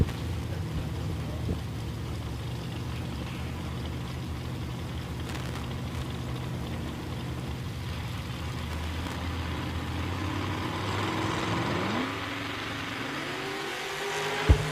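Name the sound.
drag racing trucks revving at the start line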